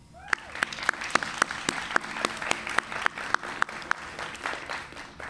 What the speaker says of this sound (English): Today, they also deserve a round of applause.